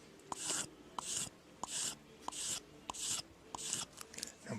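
A knife blade being stropped after sharpening, the rough side of a strop held flat against the blade: about seven rhythmic, close brushing strokes with soft clicks between them, alone with no talk.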